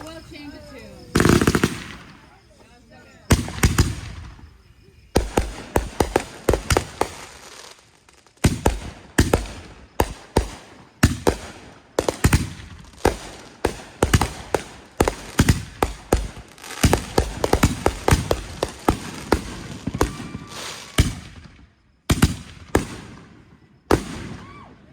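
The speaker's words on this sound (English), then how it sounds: "The loud explosion you just heard was the beginning of the chaos that ensued." Fireworks explosions at a neighborhood show: loud, rapid sharp bangs and crackling bursts in dense irregular volleys throughout, with a few brief pauses between salvos, close and powerful.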